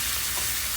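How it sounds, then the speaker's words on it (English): A paneer and potato masala mixture for beetroot tikkis sautés in a pan, giving a dense, continuous close sizzle with no breaks; short and alone, without voices. "We will saute this for like 5 minutes till the paneer mixture is dry."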